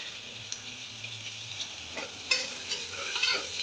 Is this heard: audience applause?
no